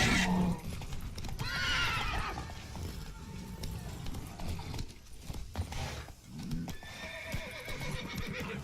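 Horse in the Witcher 3: Blood and Wine video game neighing loudly, with a whinny near the start and another later, over rhythmic galloping hoofbeats and other game sounds, with brief voices mixed in.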